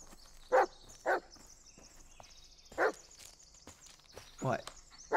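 A dog barks in the video game Blair Witch, four or five sharp separate woofs spaced over a few seconds above quiet, eerie game ambience.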